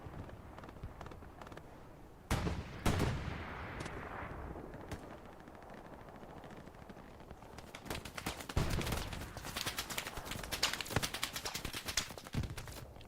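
An MG42 machine gun fires in the video game Hell Let Loose, with loud bursts of rapid gunfire, scattered sharp shots early on, and a denser, sustained stretch of firing in the later half over a rumbling battlefield background.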